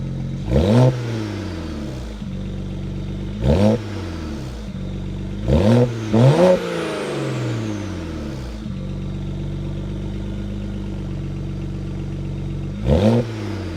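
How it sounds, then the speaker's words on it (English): A 2007 BMW 335i E92 engine idles steadily and is revved five times through its exhaust, each rev rising sharply then dropping back, close and loud with no talking. "I'm going to show you guys a little exhaust video"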